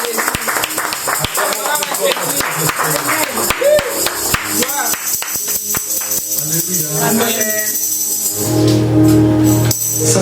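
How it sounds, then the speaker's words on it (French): A church congregation clapping rhythmically during praise, brisk overlapping claps mixed with voices that shifts into a fuller, sustained sound near the end. "Acclamons pour le Seigneur."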